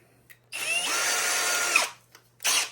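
A power drill with a small bit, roughly 3/16 inch, runs in one sustained whine for about a second and a half, then a second short burst follows; close and alone.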